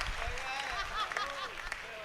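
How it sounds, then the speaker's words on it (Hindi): Applause from the audience at a Hindi comic poetry recital, brief and moderately loud, mixed with laughter and voices over the clapping. "तालियां बढ़िया से आनी चाहिए"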